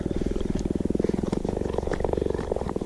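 A wild cat purring as it greets a familiar person, a loud, close, continuous rhythmic rumble with steady pulsing breaths throughout.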